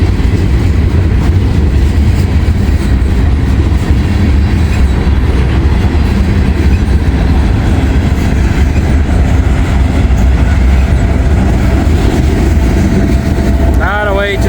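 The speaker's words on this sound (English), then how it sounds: "There's an old as dirt southern grainer" An old Southern grain freight train rolls past close by, with a loud, steady rumble and rhythmic wheel clatter lasting throughout, and a brief squeal near the end.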